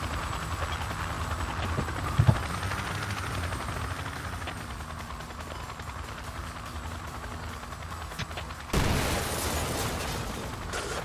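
Black Hawk helicopter in Battlefield 2: Project Reality, a steady loud rotor and engine roar throughout, with a brief bang near the start and a sudden louder burst of noise toward the end.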